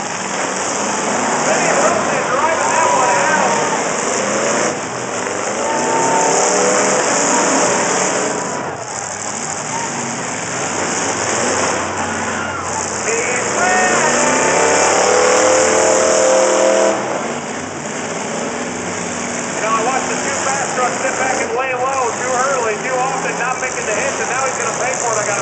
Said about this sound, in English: Bowen's got that 22 truck still running.